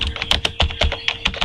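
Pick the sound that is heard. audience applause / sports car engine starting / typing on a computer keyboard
typing on a computer keyboard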